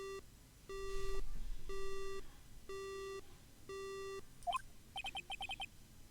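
Beeping from a broken phone line in the video game Phoenix Wright: Ace Attorney, a series of five evenly spaced flat tones followed by a rising chirp and a quick run of short electronic pips.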